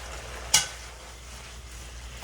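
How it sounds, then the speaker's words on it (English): String beans stir-frying with bacon in a pan, a soft continuous sizzle broken by two sharp utensil clacks, one early and one at the very end. "Give them a quick stir."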